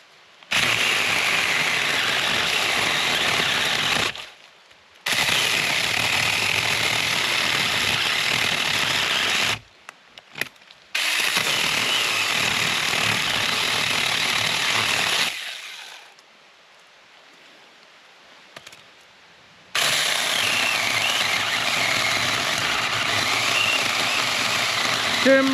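A SAKER chainsaw cuts down a tree in three long, loud, rough buzzing runs separated by brief stops, with a longer quiet stretch before the final burst; no one speaks.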